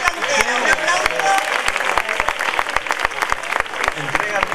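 Audience applause greets an award winner at a flamenco singing contest, Noches de Bajo de Guía, with lively clapping and sharp close thumps under a voice speaking.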